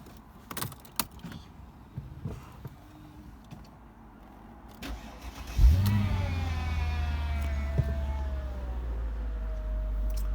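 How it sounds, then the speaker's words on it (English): A Mercedes CLK55 AMG convertible starts up with a brief starter whir, then the engine catches with a deep burst and settles into a steady, rumbling idle, close by, after some soft interior clicks. "I will start it up a second just to hear this."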